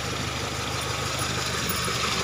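A Mitsubishi Lancer engine idling steadily and quietly with a low rhythmic pulse and broad hiss, unchanging throughout, no voices.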